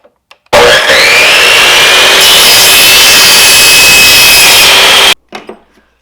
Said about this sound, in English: So let's get into cutting this piece of PVC.